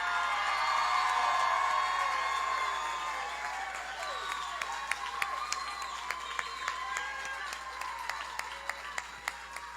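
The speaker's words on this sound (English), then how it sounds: "that applause and that roar" Crowd at a mayoral campaign event in Edinburgh roars with applause and cheering, loud and dense at first, then easing into scattered claps and whoops that carry on to the end.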